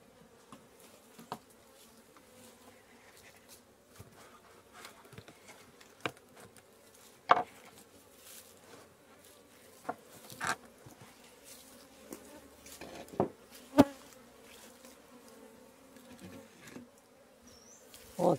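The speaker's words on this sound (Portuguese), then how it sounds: "Tem muita abelha, tá vendo?" Bees buzz steadily around a hot hive box shaded with cut brush, a continuous close insect drone broken by occasional sharp knocks and taps, with no talking.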